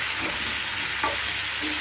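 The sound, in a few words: potato and cauliflower frying in a pan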